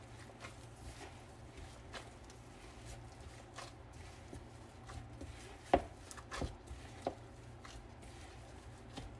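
Dough for Turkish chak chak is kneaded by hand, producing soft, irregular thumps and squishy slaps, quiet and close, with a few sharper presses.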